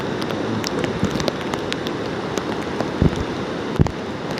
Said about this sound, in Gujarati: રસ્તા વરસાદ હજી ચાલુ. વરસાદ તો ચાલુ જ બંધ તો થાય જ ના.